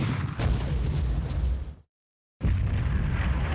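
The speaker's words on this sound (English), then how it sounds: "Internal explosion." A ship explodes in a naval war video game, a loud rumbling blast that cuts briefly to silence before a second burst of heavy booming noise.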